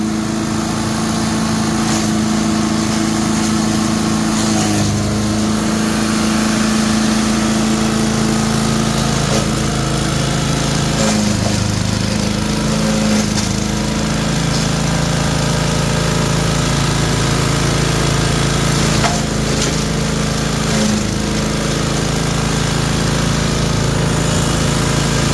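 A wood chipper/shredder engine runs continuously and loudly up close, with a steady droning hum and slight shifts as the load changes, over about twenty-five seconds.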